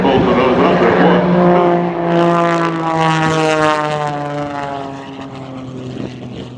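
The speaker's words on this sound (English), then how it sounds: "this small airplane spewing smoke all over the sky at Shaw Air Expo" Gary Ward's MX-2 aerobatic airplane trails smoke over Shaw Air Expo, its propeller engine roaring loud and close with a strongly shifting pitch as it dives and climbs.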